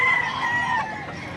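A rooster at a livestock market in Padre Garcia, Batangas crows close and loud in one drawn-out call that fades at the end.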